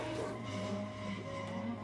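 Tires skid and squeal in a drifting video game at Tamada Sportsland, with the engine droning steadily beneath a continuous, fairly loud slide.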